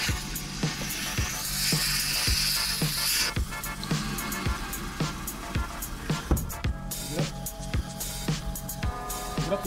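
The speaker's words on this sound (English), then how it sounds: "So that's the sound of atmospheric air entering a vacuum pipeline," Atmospheric air rushes into a vacuum toilet pipeline aboard a ship, a steady hiss with irregular knocks and clicks from the pipework, recorded up close in a machinery space.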